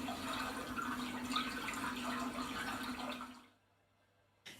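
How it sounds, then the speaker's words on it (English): Continuous running, splashing water from a motion-activated floating lilies projection app, fairly faint and steady, cutting off abruptly near the end to near silence. "the sound of the water"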